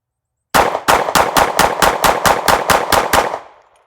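A handgun fired rapidly at a cardboard target with steel behind it, twelve loud, evenly spaced shots in quick succession, each sharp and close, with the last ringing off into silence.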